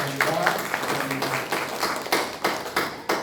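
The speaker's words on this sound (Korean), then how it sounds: "이재필 목사님과 장영순 권사님, 곽정순 권사님 우리 박수로 격려해 주시기 바랍니다." A church congregation claps to encourage the worship team at a praise service, with scattered, uneven hand claps of varying loudness rising and falling, and brief voices in the background.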